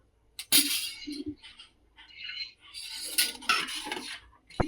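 A spoon stirs a rava papad batter of semolina and ajwain in a pot, giving intermittent scraping and clinking strokes, close and moderately loud, with short pauses between bursts and no talking.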